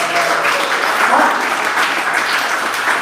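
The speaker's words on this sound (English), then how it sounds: "Let me give a round of applause for Jonathan and David." Audience applause at a church youth gathering fills the space, a steady dense wash of clapping at close range that holds level for the whole stretch with no talk over it.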